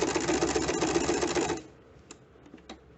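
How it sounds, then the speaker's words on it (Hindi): A home sewing machine runs fast and steady, stitching the neckline of a garment, then stops after about a second and a half, leaving a few faint clicks and taps. "पार्ट से ही इसकी नेकलाइन की स्टिचिंग शुरू करेंगे।"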